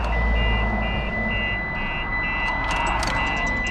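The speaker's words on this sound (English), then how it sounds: "The moment they open the door, you can see the alarm goes off." A 2010 Mitsubishi Lancer Evolution X alarm sounds in a steady, repeating pattern of loud electronic beeps over a low engine-like hum, with a few brief clicks near the end.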